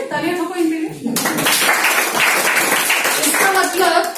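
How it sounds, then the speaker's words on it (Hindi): Live audience at a Hindi motivational talk breaks into sustained clapping that fills the room, swelling from a sudden start and running steadily throughout, with a voice audible over it at the beginning. "आप बोले तालियां ठोको इनके लिए।"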